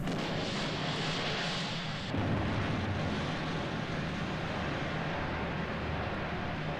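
A loud, sustained rumbling film explosion sound effect with crackling debris, continuous over several seconds, with a deeper roar swelling midway through.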